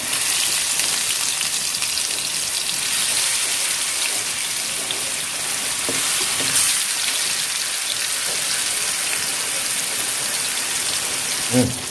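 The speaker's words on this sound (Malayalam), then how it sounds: "നമുക്കിനി ഓരോ മീനായി ഇതിലിട്ട് ഒന്ന് ഫ്രൈ ചെയ്തെടുക്കാം" Fish pieces fry in coconut oil for a fish biryani, producing a loud, steady crackling hiss like heavy rain that runs unbroken from start to finish.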